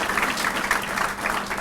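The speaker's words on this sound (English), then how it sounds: "If we could just give them a round of applause for the staff who are supporting tonight" Steady, dense applause from an evening awards-dinner audience honoring San Diego Military Advisory Council staff, a continuous wash of many hands clapping close by with no voices over it.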